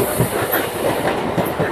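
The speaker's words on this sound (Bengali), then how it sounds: "আমাদের ট্রেন ঢুকছে ওন্দা গ্রামে।" A passenger train running at about 92 km/h through green countryside as it approaches a village station, with a loud, close, continuous rumble and rhythmic clickety-clack of the wheels on the rails.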